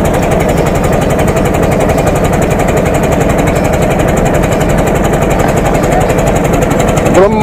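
Outboard motorboat engine on an evening boat ride along the ghats of Varanasi, a constant loud rattling chug close by that runs without a break, with faint speech beneath.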